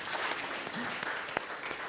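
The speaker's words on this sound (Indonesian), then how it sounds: "beri tepuk tangan buat Tuhan kita" A church congregation applauds during an online worship service, continuous clapping from many hands at a moderate distance lasting the whole short stretch.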